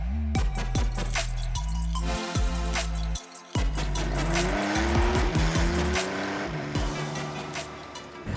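A Porsche 911 Carrera S with a 3-litre flat-six and a Maserati GranTurismo are driven hard nearby, with loud engine notes rising and falling through the gears and repeated sharp tire squeals and skids.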